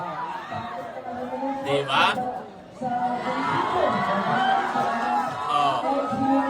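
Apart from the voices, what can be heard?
crowd of people shouting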